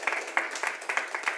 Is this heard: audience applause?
yes